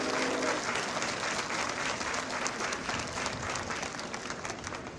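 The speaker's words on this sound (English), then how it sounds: "a nice round of applause for our CMS Drumline." A school auditorium audience applauds a middle school drumline at an eighth grade recognition ceremony, with dense, steady clapping that fills the whole stretch at an even, sustained level and no voices on top.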